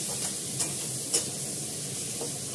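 A pan of chandramukhi potatoes and raw tomatoes sizzling after water is added, a steady close hiss with a few brief clinks and scrapes of stirring.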